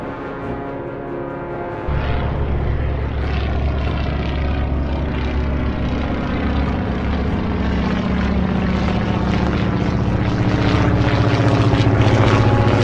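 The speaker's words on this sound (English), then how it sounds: "Oh, I get two aircraft launches." Propeller aircraft engines drone steadily as planes launch in the Atlantic Fleet naval game, with a low rumble that thickens after a couple of seconds and holds loud and constant throughout.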